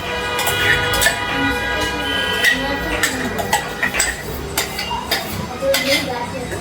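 Ground jackfruit paste being stirred and mixed in a metal vessel, with repeated clinks and scrapes of a spoon against the pot, close and fairly steady, while someone talks over it.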